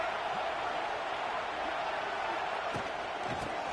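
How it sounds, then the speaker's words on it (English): A football stadium crowd roars in a steady, dense wall of noise, swelling slightly with scattered shouts and whistles standing out near the end. "this crowd is turning it up a notch"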